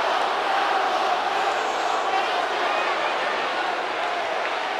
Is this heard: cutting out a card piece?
no